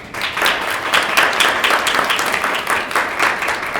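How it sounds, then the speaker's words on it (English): A roomful of people applauding a keynote speaker, loud, dense clapping that holds steady for nearly four seconds with no talk over it. "please give a round of applause for Tyren Boyd."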